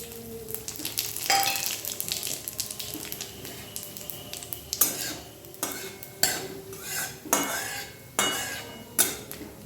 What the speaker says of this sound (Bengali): কড়াই বসিয়ে দিয়েছিলাম তেল গরমও হয়ে গেছে এবার ফোড়নটা দিয়ে দেবো